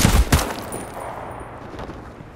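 A quick double burst of gunfire in the Ghost Recon Breakpoint shooter game, two sharp close shots at the start that fade into a low, lingering rumble.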